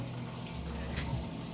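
Tap water runs steadily and splashes into a kitchen sink, a continuous close hiss and patter with no talking.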